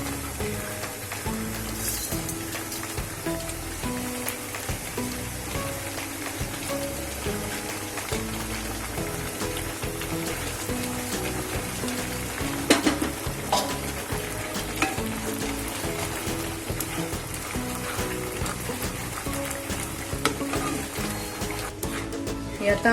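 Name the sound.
stirring thickening milk in a pan to make khoya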